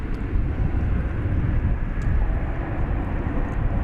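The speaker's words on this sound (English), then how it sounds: "Lufthansa flight to Frankfurt take off without us?" A Lufthansa airliner taking off from DFW Airport for Frankfurt gives a steady distant jet rumble, broad and low, unbroken for a few seconds.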